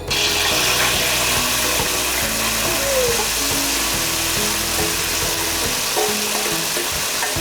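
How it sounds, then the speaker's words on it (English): Vermicelli frying in two tablespoons of hot vegetable oil, a steady, loud, dense sizzle and crackle that holds without pause throughout, with no talking. "So we heat 2 tablespoons of vegetable oil. I think it's hot now. We're gonna put the vermicelli in."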